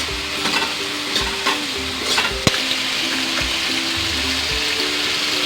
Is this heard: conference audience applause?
no